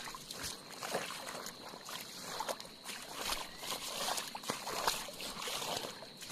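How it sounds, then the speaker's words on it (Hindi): Water sloshes and trickles in uneven splashes as someone washes their feet in a stream or pool outdoors in a wild tiger area, moderately close and fairly soft, with someone speaking over it. "क्या मैं पैर साफ कर लूं पानी में।"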